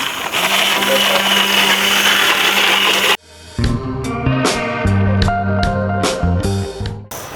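An electric mixer runs loud and close, blending an oil mixture for soap with a steady whirring drone for about three seconds. It then cuts off abruptly, followed by lighter clattering and knocking.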